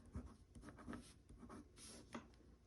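A pen scratches out an address on a letter in quick, faint strokes and short bursts, heard close up and alone in a quiet room.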